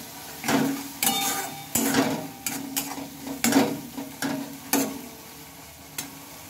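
Spice paste cooking with tomato in a pan for a bitter gourd curry, stirred in repeated scraping strokes that come roughly every second over a soft continuous sizzle, close and fairly quiet.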